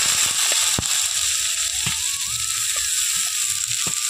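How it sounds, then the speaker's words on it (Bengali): Chopped onions drop into hot oil with fried cumin seeds and set off a loud, constant sizzle, with a few sharp clinks and pops over it. "এখন জিরেটা ভালোভাবে ভাজা হয়ে গেছে, এখন আমি দিয়ে দিচ্ছি কুচনো পেঁয়াজ।"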